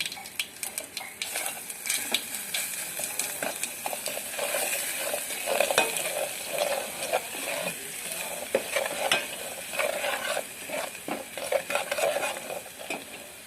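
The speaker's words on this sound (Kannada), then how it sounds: "ಇವಾಗ ಬೆಳ್ಳುಳ್ಳಿ ಮತ್ತು ಶುಂಠಿ ಇಟ್ಕೊಂಡಿದ್ದಲ್ಲ ಅದನ್ನು ಹಾಕ್ಕೊಳ್ಳೋಣ." Garlic and ginger sizzle and fry in a pan while a utensil stirs and scrapes against the metal, a steady frying hiss with frequent clinks, close and continuous, no talk.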